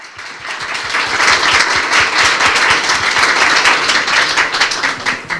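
A large crowd at an awards event bursts into loud, dense, sustained applause that rolls on steadily for several seconds with no pauses, with faint voices mixed in.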